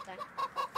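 A hen in a Roblox video game gives a few short, quiet clucks in quick succession, alone with no talk over them.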